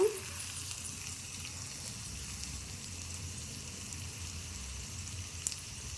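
Whole spices frying in hot oil for a Telugu-style curry, giving a steady soft sizzle that runs through the whole stretch with little change and no talk over it.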